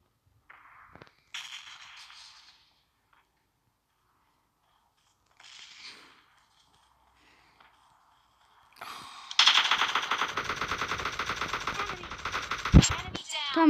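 Automatic gunfire in PUBG Mobile Lite, a few short bursts early on, then a long, loud rapid volley in the last seconds, with players talking in between.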